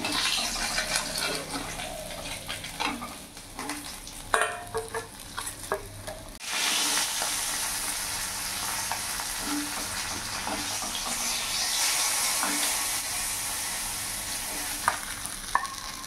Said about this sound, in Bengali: তেল গরম হয়ে গেছে, এবার মাছগুলো আমি ছেড়ে দেবো।